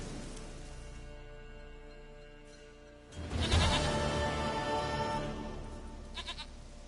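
Goat in The Witcher 3 video game, a quiet background ambience and then a louder bleating burst midway, with a short faint bleat near the end.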